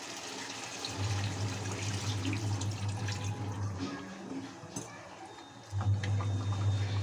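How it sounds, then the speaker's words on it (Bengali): A little water poured into a pot of chicken and potatoes being cooked down for chicken kosha makes a faint, steady trickle and splash over a low kitchen hum, pausing briefly before the pour resumes. "এখন আমি দিয়ে দেবো অল্প পরিমাণ জল।"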